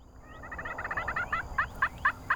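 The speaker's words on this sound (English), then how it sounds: "a few gobbles at first light" A wild Rio Grande turkey gobbles at first light in spring, a rapid rattling series of bursts that slows and strengthens toward the end, clear and fairly close with no voices.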